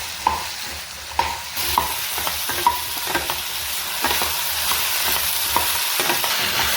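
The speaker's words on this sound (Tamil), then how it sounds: "மீடியம் ஃப்ளேமில் வச்சுக்கோங்க. நல்லா கொஞ்சம் வெங்காயம் வதங்கட்டும்." Onions sauté in a pan over a medium flame with a steady, close sizzle. A spatula scrapes and taps the pan at intervals, and nobody speaks.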